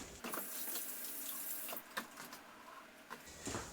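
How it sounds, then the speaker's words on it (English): A kitchen tap runs steadily into a sink while hands are washed, a soft continuous splash close by with a few brief louder splashes and clatters as the hands move under the stream. "let me quickly wash my hands"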